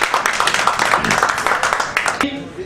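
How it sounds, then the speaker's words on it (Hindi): Audience applause at a Manjhi movie promotion event with actor Nawazuddin Siddiqui, a dense, steady patter of clapping from a crowd that thins out toward the end. "तालियां।"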